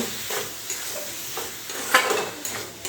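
A vegetarian samosa filling of potatoes with garam masala, coriander leaves and green chilli cooks in a pan, giving a steady close sizzle with repeated scraping stirs, no voices.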